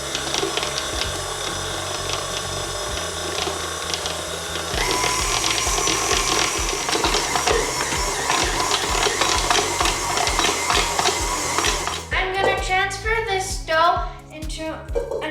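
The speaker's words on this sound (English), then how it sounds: "if you have a stand-up mixer like we do, just use your hook attachment and do it for 5 minutes in the mixer" Stand mixer with a dough hook kneading whole wheat pita dough, a steady loud mechanical whir with rhythmic knocking that runs for most of the span, then stops and gives way to clattering handling noises.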